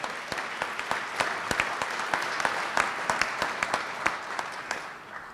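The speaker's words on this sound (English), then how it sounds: "So, round of applause, everyone from Goodwill." An audience at a Louisville community investment event applauds in a steady burst of many hands clapping at moderate loudness, with no talking over it.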